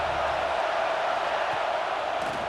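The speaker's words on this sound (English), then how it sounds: "This dog crowd is off the leash, and they are coming after them, bringing noise on third down" A football stadium crowd roaring on third down, a steady, loud, wash of broad crowd noise with no breaks.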